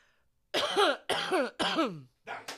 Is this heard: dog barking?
no